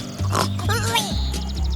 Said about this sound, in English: your singing is sounding so sweet, baby pig